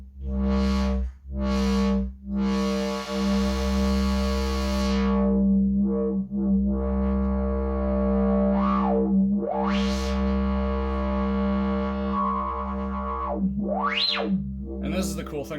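Korg MS-20 synthesizer with its resonance and low pass filter being swept, a buzzy distorted drone with squelchy resonant whoops and rising, falling filter sweeps, loud and continuous.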